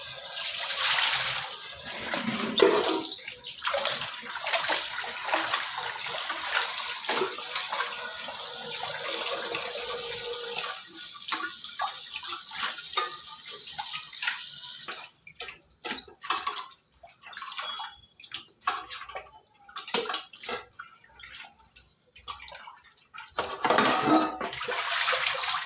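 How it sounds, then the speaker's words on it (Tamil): Fish being washed by hand in a basin of water, rubbed with rock salt between rinses; steady splashing and swishing runs throughout, with brief quieter gaps near the end. "இப்போ இதை உரசின பிறகு திருப்பியும் 2-3 கழுவணும்."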